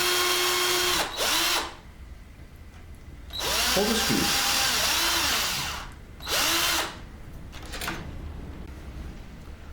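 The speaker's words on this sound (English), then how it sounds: "One drills pilot holes" A power drill with a 2mm bit drills pilot holes into cabinet carcass timber for hinge screws, giving three short, loud whirring bursts separated by pauses, with brief speech between them.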